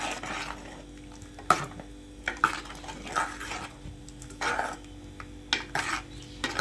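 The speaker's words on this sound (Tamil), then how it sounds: "இப்போ வந்து நம்ம தேங்காய் சேர்த்துக்கலாம், நல்லா கலந்து விட்டுக்கலாம்." Ground coconut is stirred into a dry fish curry in a metal pot, repeated close scraping strokes and clinks of the ladle against the pot in an uneven rhythm.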